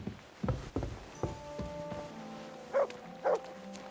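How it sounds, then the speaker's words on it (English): A dog barking and whimpering in the medieval video game Kingdom Come: Deliverance, a few short near barks and yelps, the last two loud whines, over faint background tones. "You silly doggy."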